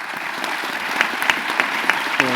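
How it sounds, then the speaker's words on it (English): Audience applause at a live event, a short burst of clapping from a room of people, fairly close and even, with a brief voice starting near the end. "So a round of applause for"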